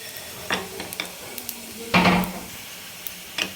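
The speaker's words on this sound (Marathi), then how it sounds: "एक चमचा तीळ पण टाकून घेणार आहे हे पण छान भाजून घ्यायचं आहे आपल्याला" Cumin and sesame seeds dry-roasting in a hot pan, with a few sharp crackles and pops, a brief burst of stirring scrape near the middle, and soft intermittent clicks over low background hiss.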